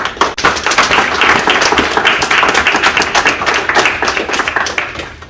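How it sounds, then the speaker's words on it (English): Audience clapping for volunteers at a community centre grand opening, a loud close burst of many hands that swells and then thins out toward the end. "Can we give them one round of applause, please?"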